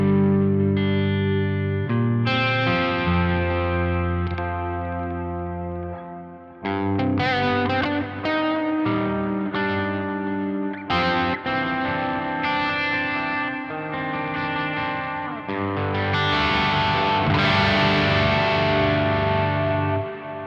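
A guitar run through a Quad Cortex modeler with delay feeding into reverb, sustained chords and picked notes trailing into washed echoes and a big ambient tail, loud and continuous with no talking.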